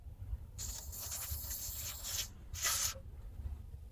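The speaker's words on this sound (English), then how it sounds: "Do we put a bit more penetrant on it?" Penetrant sprays from an aerosol can onto a lawn mower blade bolt on a Honda mower, a soft steady hiss lasting about two seconds followed by a second short burst, close and fairly quiet.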